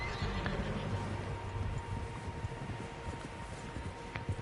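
Horses in the open-world Western game Red Dead Redemption 2 neigh and whinny amid a busy, continuous in-game soundscape of hoofbeats and background noise, with faint voices mixed in.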